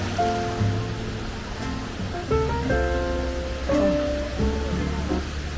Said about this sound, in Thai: นี่คือน้ำที่ไหลมาจากน้ำตกหรออ่า